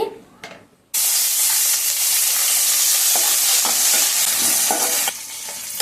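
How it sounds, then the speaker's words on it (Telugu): Chopped green chillies frying in oil in a pan for bottle gourd chutney, a loud, dense sizzle bursting in after a short quiet start and holding steady, with occasional stirring scrapes. "పచ్చిమిరపకాయలను నూనెలో బాగా దోరగా వేయించుకోవాలి."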